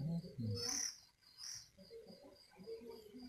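Young doves being hand-fed chirp and coo in short, busy bursts close by, with soft calls continuing at a lower level after a brief pause.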